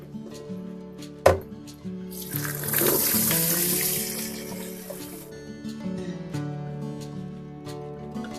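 Cured salted egg yolks being rinsed under a running kitchen tap, a steady splash of water over a sink with a sharp knock near the start and softer handling clatter throughout.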